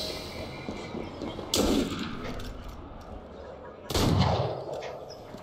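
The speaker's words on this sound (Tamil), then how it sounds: "எல்லாரையும் டமால் டிமில்ல சுட்டுக்கிட்டு தான் இருக்கிறோம்." Two heavy booming gunshots ring out in Assassin's Creed Unity during four-player co-op multiplayer, each with a long rolling echo, over a steady game background.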